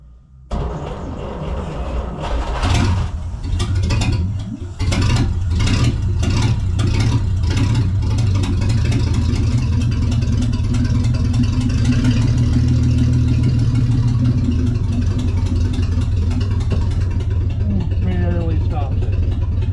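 A 1938 Dodge car engine, sitting for over 40 years, cranks and catches, then runs with a steady low rumble under a voice, close and continuous.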